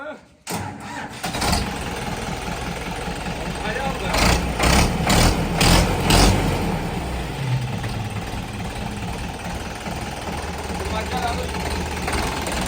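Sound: engine starting and running, Mahindra tractor video

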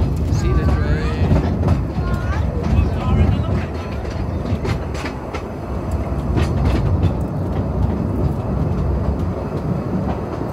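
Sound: steam train running on Groudle Glen Railway

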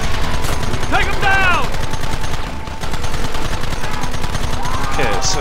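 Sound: gunfire in the video game Red Dead Redemption

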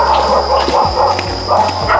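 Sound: dog barking, mother dog with three puppies

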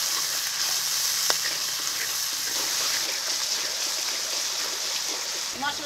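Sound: spice paste with tomato and salt frying in pan

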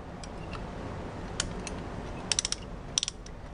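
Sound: brake caliper tool being cranked

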